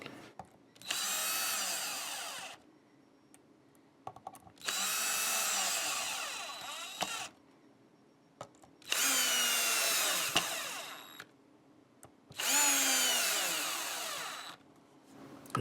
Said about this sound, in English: And then always tighten them up again with the screwdriver.